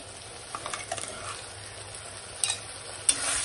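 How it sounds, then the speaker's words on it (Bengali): Sliced onions with salt and ginger-garlic paste being stirred in a pan for mutton kosha, giving a soft, quiet sizzle with light scraping taps of a spatula and a couple of sharper clinks near the end. "ভালো করে নেড়ে চেড়ে নিচ্ছি"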